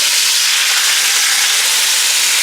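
A pot roast sears in a Dutch oven with a loud, steady sizzle and broad hiss that holds unbroken throughout, with no voices.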